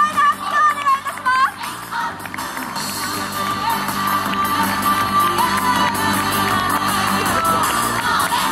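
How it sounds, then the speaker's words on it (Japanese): A crowd at a YOSAKOI dance festival award ceremony in Takamatsu cheers and applauds, with shouts and whoops rising over steady clapping that builds into a continuous roar; a voice briefly speaks at the start. "皆様盛大な拍手をお願いいたします"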